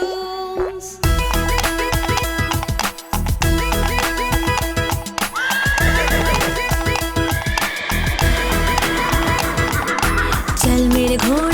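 A cartoon horse neighs within an upbeat Hindi children's rhyme, its whinnies mixed with bright, busy music that plays loudly and continuously.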